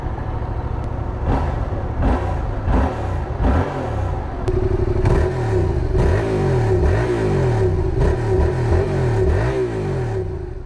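A motorcycle engine cranks and fires up, then revs in repeated rising and falling sweeps, loud and close with no talking over it.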